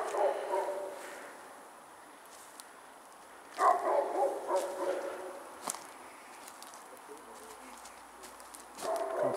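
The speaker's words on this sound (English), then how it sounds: "Could that dog shut up?" A dog barks outdoors around an abandoned chalet and its sheds, a few scattered woofs coming in bursts at moderate distance, with footsteps and faint ambient noise between them.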